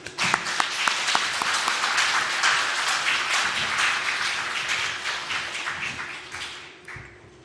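Congregation in a church applauds to welcome a missionary to the pulpit, a dense, steady wash of many hands clapping that holds for several seconds before thinning near the end.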